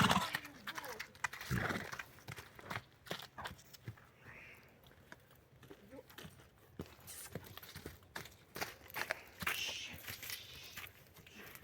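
A five-year-old draft mare clip-clops on the move, with irregular hoof strikes close by, some snorting and chewing noises between them, and people talking over it on a Ukrainian farm.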